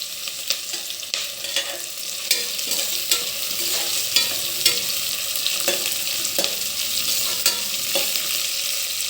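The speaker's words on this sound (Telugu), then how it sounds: "ఆనియన్స్ కొద్దిగా వేగాలి కదా అని నేను చిల్లీస్ యాడ్ చేయలేదు." Onions and chillies frying in a cooker for chicken palav sizzle softly and steadily while a spoon stirs with repeated scraping clicks against the metal, close by and without speech.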